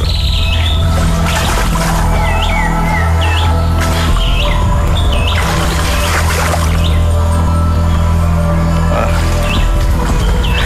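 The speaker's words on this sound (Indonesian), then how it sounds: "burung yang suaranya luar biasa itu burung kecil yang asli burung kita" A small native Indonesian bird sings repeated bright chirping phrases over a constant loud hum of rushing water and forest ambience in the flooded Pagar Dewa swamp forest.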